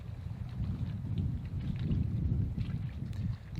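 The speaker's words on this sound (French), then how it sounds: "il y a vraiment beaucoup de vent ici" Strong wind gusting at a lakeshore campsite beside the water, a steady low roar of buffeting rising and falling throughout with no voices.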